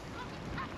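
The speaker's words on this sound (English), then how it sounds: "Lots of geese." Canada geese honk in a brief burst of overlapping calls from a large flock spread across a field, heard at a moderate distance.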